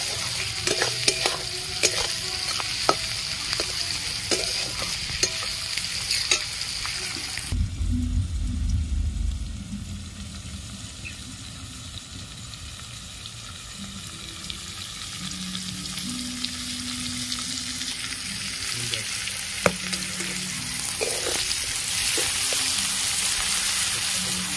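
Vegetables salted in a pan fry with a constant crackling sizzle and repeated scraping stirs, close up. A brief lull comes midway before the hiss builds back to full strength.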